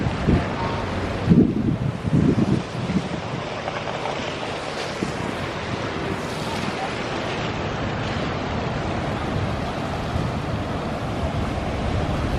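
Sea waves at a Barbados port wash and rumble in a broad, steady surge mixed with gusty wind buffeting the microphone, with a few louder thumps near the start.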